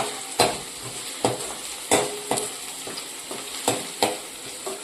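Rice for vagharela bhaat being tempered and stirred in a pan: a steady sizzle broken by sharp scraping stirs every half second or so, close and without talk.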